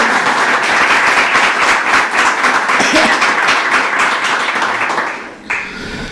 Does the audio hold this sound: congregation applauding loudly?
yes